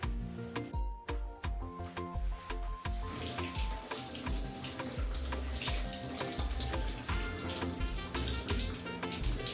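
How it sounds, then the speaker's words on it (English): Rice washed by hand in water inside a metal bowl, a steady running-water wash with sharp clinks and splashes, sparse at first and then continuous and close, no talking. "then we wash our rice."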